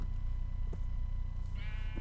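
Sheep bleating in the video game Minecraft, a short bleat near the end rising over a steady low game background hum, with a faint call earlier.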